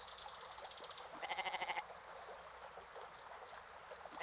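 A goat in an adventure video game gives a short wavering bleat, faint and brief against a steady hiss of background game ambience, with other soft tones around it.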